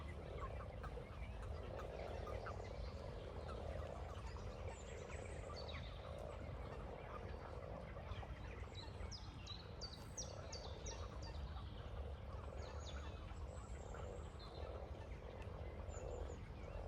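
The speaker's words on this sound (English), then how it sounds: "Just going to take you to a pond that has more frogs than I've ever seen in my entire life in it." A dense chorus of hundreds of frogs croaks continuously at a pond, a steady layered din heard from nearby, with faint higher calls scattered through it and no one speaking.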